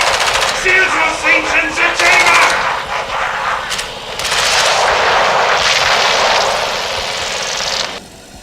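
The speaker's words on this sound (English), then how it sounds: "What you just heard is the Cyclotron's first generated rift" Chaotic sci-fi effects in Call of Duty Black Ops Cold War Zombies as the Cyclotron opens a dimensional rift, rumbling and crackling with rapid bursts, whooshes and rising tones, building into a loud sustained roar before cutting off abruptly.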